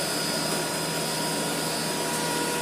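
Webasto HL90 diesel heater running down after switch-off, its fuel pump stopped: a steady, loud whooshing blower roar, like a vacuum cleaner, holding constant throughout with no voices.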